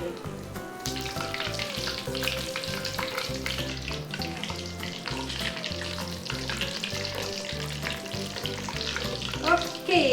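Steady, dense crackling and sizzling of shrimp fritter batter frying in hot oil, continuous and close, with a rhythmic musical backing playing underneath throughout.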